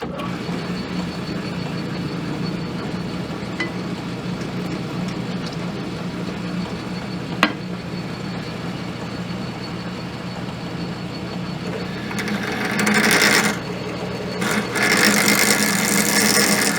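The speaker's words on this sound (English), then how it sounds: "I don't like the way this drill's cutting at all" A drill bit grinds into a Mitutoyo digital micrometer part during an encoder replacement, a steady mechanical whir with a sharp click midway and rougher, louder bursts of cutting toward the end.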